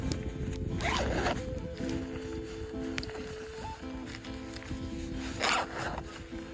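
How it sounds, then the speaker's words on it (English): Zipping up the hood of a Patagonia High Endurance Kit jacket gives a few rasping zipper pulls, close and fairly loud, over rustling fabric. "all you have to do is just zip up"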